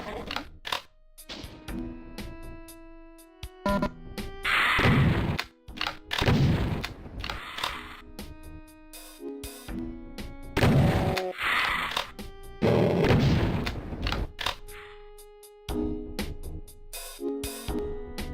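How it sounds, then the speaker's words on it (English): Repeated shotgun blasts fire in the video game Doom II on the level The Abandoned Mines, loud booming shots spaced a second or two apart, each followed by pump clacks and mixed with game effects and monster noises. "Now I will use the shotgun."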